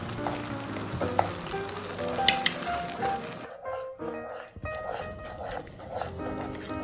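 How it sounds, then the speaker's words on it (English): Butter melting in a hot pan with a spoon stirring it, a steady close sizzle with soft scraping clinks, the frying quieting partway through, and a dog barking faintly in the background. "we're gonna stir here until the butter is melted"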